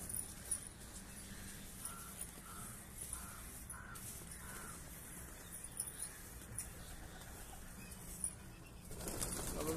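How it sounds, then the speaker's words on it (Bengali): Pigeons feed and flutter nearby, with soft wing flaps and scattered bird calls over a faint background hiss, brief bursts recurring through the stretch and a louder flurry near the end. "কোন পায়রাটা বেশি তাড়াতাড়ি খাচ্ছে"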